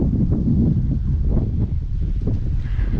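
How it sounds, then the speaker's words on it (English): Steady wind rumbles against the microphone in a low, continuous whoosh at Chevelon Canyon Lake, Arizona, swelling slightly in waves, with nothing else standing out. "You can hear the wind."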